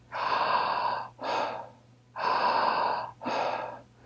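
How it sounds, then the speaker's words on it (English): Deep, slow belly breaths during a guided breathing exercise: two full cycles of long, airy inhalations each followed by a shorter exhale, close and clear against a faint steady hum. "Keep breathing. Good. All the way down into your belly."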